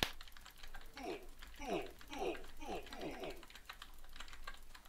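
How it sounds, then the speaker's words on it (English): Close-up clicking of computer keyboard keys during an online PvP arena game session, a run of quick uneven keystrokes with a few louder bursts. "Gosh, my keys are actually sounding very loud."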